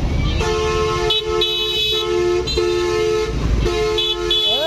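Car horns honk repeatedly in a congested road traffic jam, several loud toots of varying length overlapping and pausing over a steady engine rumble, close by.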